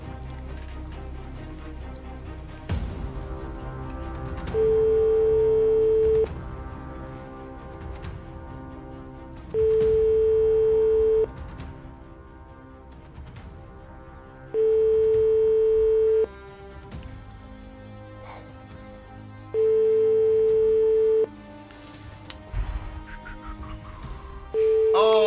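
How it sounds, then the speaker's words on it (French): A telephone rings out during a radio call-in prize draw: five evenly spaced electronic ring tones, each lasting about a second and a half, with quiet background sound between the rings. "Premier numéro, 5 sonneries."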